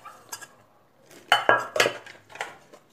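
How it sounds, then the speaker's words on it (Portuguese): Pink cooking pot lids clink and clatter as they are handled, with several sharp metallic knocks, a cluster of louder clanks in the middle, then a lighter tap near the end, close and with no talking. "Então, as tampas da panela, vou mostrar para vocês."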